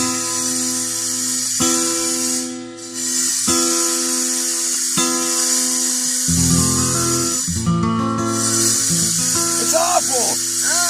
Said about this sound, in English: They're cutting metal across the street with a saw.